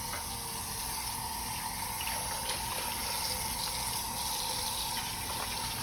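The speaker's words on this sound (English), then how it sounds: "Wash the pan right away." Tap water runs steadily into a sink while a pan is washed after cooking, a continuous even hiss and splash with faint clinks, no voices.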